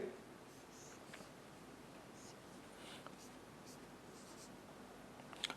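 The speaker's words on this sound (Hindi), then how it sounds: "मैं लिख रहा हूं यहां पे" Pen or pencil scratching on notebook paper while someone writes out a chemistry substrate name, faint intermittent scribbling strokes scattered across the quiet passage, with one slightly louder stroke near the end.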